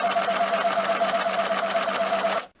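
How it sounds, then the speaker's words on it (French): A Silvercrest sewing machine stitches a hem through a hemming foot, a steady, loud, fast mechanical whirr running without a break for over two seconds before stopping abruptly. "on y va pour la couture et on garde toujours le pli de l'ourlet ici qui passe dans le guide du pied à ourlet"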